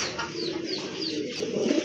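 Running pigeons, a tiger-patterned female and a black male, coo steadily and close by, a soft continuous burbling with no one talking.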